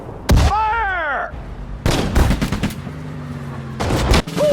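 Sharp bursts of gunfire and explosions ring out in a Sudden Strike 4 Guadalcanal battle, loud close volleys separated by brief pauses, with shouted voices over them.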